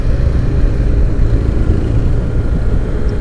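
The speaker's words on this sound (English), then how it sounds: "and you can still hear the engine noise." Steady motorcycle engine rumble heard from a riding helmet while moving, a constant low drone mixed with wind and road noise, no talking.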